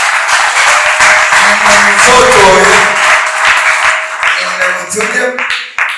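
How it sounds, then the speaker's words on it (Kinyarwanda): A church congregation claps energetically while a voice speaks over the applause and tonal music or singing plays, the clapping dense and loud before thinning near the end. "reka tuyikomere amashyi kandi"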